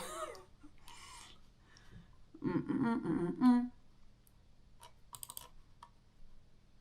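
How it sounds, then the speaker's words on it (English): Close keystrokes from a computer keyboard patter in short irregular bursts, with a louder mumbled vocal sound in the middle and a brief flurry of clicks near the end. "I just typed your name in D-Bozzy instead of Discord"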